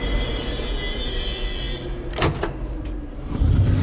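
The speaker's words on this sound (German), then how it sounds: "Hui, jetzt geht die Tür auf." A rocket's door opening in a radio play, heard as a rising hiss and whoosh with a couple of airy bursts over a steady low hum, followed by a louder rumbling swell at the end.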